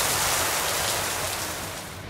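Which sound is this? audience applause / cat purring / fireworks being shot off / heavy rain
heavy rain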